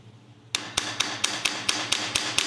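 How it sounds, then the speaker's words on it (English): Hammer blows on a carbon-locked adjustable gas block clamped in a vise: about ten sharp metallic strikes at a steady, fairly quick rhythm, close and clear, with no talking. "What we can do here is actually use the hammer again. So I'll come over to the vise."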